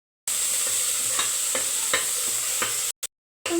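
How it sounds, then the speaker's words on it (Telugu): Onions with curry leaves and ginger-garlic paste frying in a pan for chicken biryani, a steady sizzle broken by several distinct scraping stirs of a spoon, close and loud, cutting off briefly near the end. "గోల్డ్ కలర్లో వచ్చే వరకు వేయించాలి"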